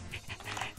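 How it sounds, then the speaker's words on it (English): A dog in the Undertale video game makes quick, excited panting and yipping sounds in a brief close burst of soft repeated noises, with no voices. "Barking excitedly."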